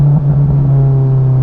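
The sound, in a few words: Honda S2000 with Invidia Q300 exhaust, driving with top down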